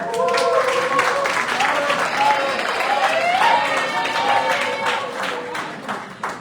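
Audience members clap to welcome two speakers, Jim Embry and Jennifer Bailey, at a history talk on the Underground Railroad, giving sustained applause mixed with a few voices that tapers off at the end.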